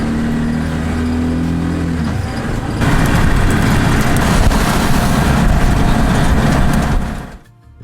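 A rented motorbike rides back toward Kampot town in Cambodia, its engine humming at first, then a louder rush of wind and road roar before it fades near the end.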